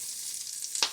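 Kale sizzling in melted butter in a pan: a steady, bright frying hiss with a short louder burst near the end, close and fairly quiet, with no voices.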